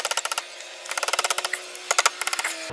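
Rapid light taps on a bent radiator part from a Kubota L3301 HST diesel tractor, struck to straighten it, come in quick bursts of a dozen or so blows with short pauses, close and without talk.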